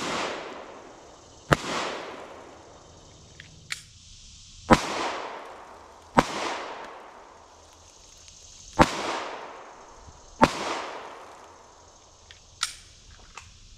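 Repeated sharp gunshots at an outdoor target shooting session, about six loud cracks spaced a couple of seconds apart, each followed by a short rolling echo, with a few fainter snaps between them.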